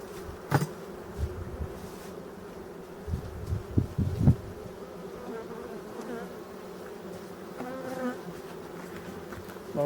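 Honey bees buzz around their hives in Brittany at the end of the season after the last honey harvest, a steady droning swarm with a few louder insects passing close by.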